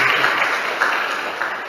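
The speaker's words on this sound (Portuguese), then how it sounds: "Dá uma salva de palmas bem forte para a palavra de Deus." Loud applause from a church congregation during a sermon, a brief steady wash of clapping lasting under two seconds.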